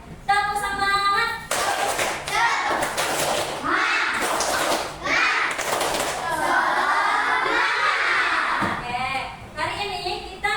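Elementary pupils in an Indonesian coding lesson perform the 'tepuk semangat' clap chant, groups of loud, crisp hand claps in quick patterned bursts alternating with children's chanted voices, close and lively.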